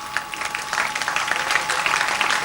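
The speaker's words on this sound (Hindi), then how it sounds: "ताली बजाकर आप पूरा उनका उत्साह बढ़ाते हुए प्रेरणा प्राप्त करेंगे" Steady applause from an audience at a Navratri spiritual retreat in Bhilai, Chhattisgarh, a dense patter of many hands clapping continuously and fairly loudly for a couple of seconds.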